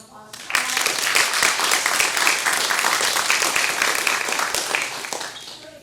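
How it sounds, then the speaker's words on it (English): An audience in a hall for a financial aid night breaks into sustained, dense applause lasting several seconds without any talk over it. "We have a round of applause."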